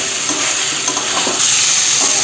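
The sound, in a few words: vegetables being sautéed in spiced oil in a pan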